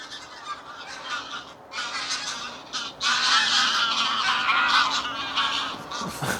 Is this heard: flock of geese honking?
yes